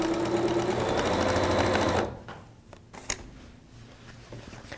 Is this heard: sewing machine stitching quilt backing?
yes